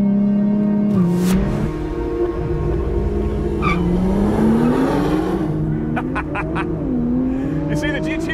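Nissan GT-R Track Edition launching hard on a circuit: loud engine revving with pitch rising and dropping through gear changes, sharp bursts of squealing tires, and a voice talking over it.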